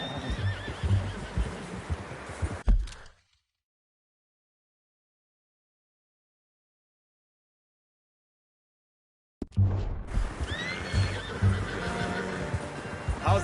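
A horse in the Red Dead Redemption 2 video game whinnies, a clear, wavering neigh heard in game sound with ambient noise, separated by a stretch of complete silence.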